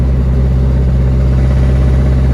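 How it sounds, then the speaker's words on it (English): A Nissan 240SX's SR20 engine runs loud and close with a rapid, steady ticking pulse from a lifter fault and a rough exhaust rasp from an exhaust leak, no voices. "There's a very loud tick, and it goes with acceleration."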